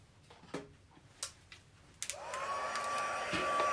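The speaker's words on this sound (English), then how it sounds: "And then just bring in your heat tool." A heat embossing tool switches on partway through and blows hot air, a steady rising whir that holds loud to the end after a few faint taps and clicks.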